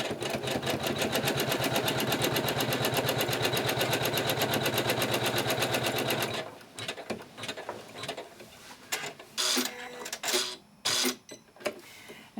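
Sewing machine stitching a quilt seam runs as a fast, steady, loud mechanical chatter for about six seconds, then stops, leaving quieter handling clicks and rustles.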